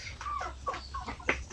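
Native free-range chickens on a farm clucking in a quick run of short, close calls over a low background hum.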